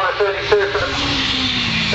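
A race car powered by a Honda Fireblade motorcycle engine revs high and buzzy at the Curborough sprint course, with a commentator talking over the engine noise.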